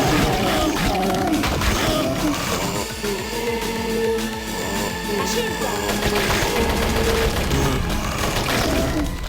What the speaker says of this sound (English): she'll fire a steady stream of bullets until she's out of ammo